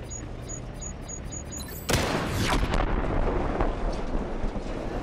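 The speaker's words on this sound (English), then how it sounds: "I can hit it from long range with a missile barrage" Missile barrage slamming into a tank in the LEGO Batman: Arkham Knight video game, a sudden loud blast followed by rumbling explosions and debris lasting several seconds.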